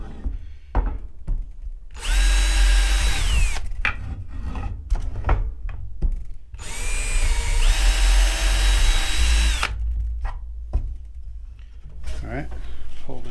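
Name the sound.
power drill drilling holes in a board in a shed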